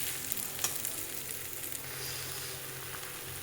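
Puffed rice being tossed with turmeric and salt in a hot pan, giving a quiet, steady sizzle and rustle with one sharper scrape near the start and no talk.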